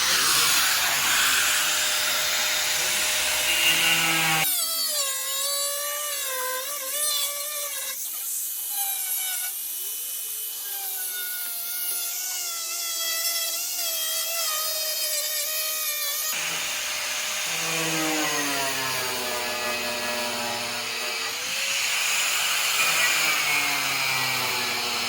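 Power saw cutting through a fiberglass car bonnet, a loud, harsh whine that runs steadily for about twelve seconds, flanked by stretches of other workshop tool noise.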